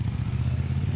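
Motorcycles on the Pordoi Pass in the Dolomites, heard as a steady, low engine drone that rumbles evenly throughout.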